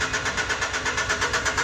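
A NiftyLift lift's engine cranks over without starting, a fast rhythmic chugging pulse from the starter that repeats evenly and stays loud and near.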